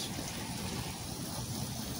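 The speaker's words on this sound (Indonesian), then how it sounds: "Kita siram terus" Water poured over aglaonema cuttings laid flat in growing medium, a steady broadband splashing and trickling that runs evenly through the whole moment with no voices.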